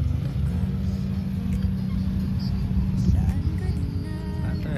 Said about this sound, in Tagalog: May pulis na, pero bumubumba pa rin siya.